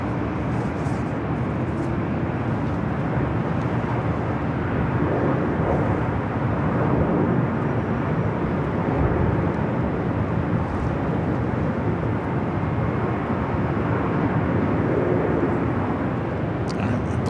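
An Air France airliner rolls down runway 24 left at LAX, heading for Paris. A loud, continuous engine roar holds steady throughout, heard from a distance with a broad, rumbling wash.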